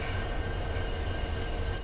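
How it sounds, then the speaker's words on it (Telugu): Continuous heavy rumble and rolling clatter of the Kazipet–Dadar Express entering Karimnagar railway station, close and loud, with a steady mechanical drone. "Kazipet Dadar express entering Karimnagar railway station."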